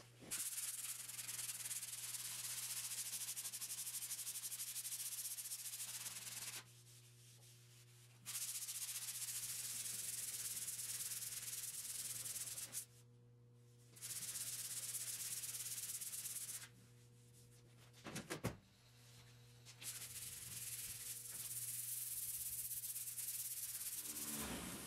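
Bondo body filler is sanded with a power sander in long continuous bursts, a loud close rasping hiss over a steady motor hum, broken by short pauses when the sander lifts off.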